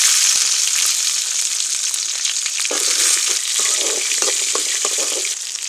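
Mustard seeds, urad dal and shallots frying in hot oil for a Tamil brinjal dish, giving a loud, dense, continuous sizzle with crackles and popping, heard close with no voices.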